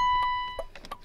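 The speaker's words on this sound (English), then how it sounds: "Key in ignition." Repeated electronic warning chime from a Mazda RX-8 with the key left in the ignition, a steady high beep tone running under brief clicks and faint movement nearby.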